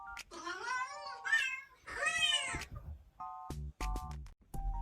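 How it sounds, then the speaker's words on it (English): A pet cat meows repeatedly indoors, a string of clear drawn-out calls with short pauses, some rising into caterwaul-like cries, close and alone with no talking. "Meow if you're pretty."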